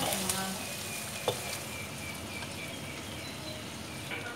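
Shrimp frying in a pan with a steady close sizzle, stirred now and then with a brief scrape of the utensil.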